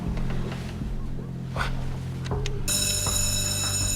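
An alarm bursts into a loud, continuous electronic ringing partway through, cutting over a noisy room during an armed hostage takeover and sustaining to the end.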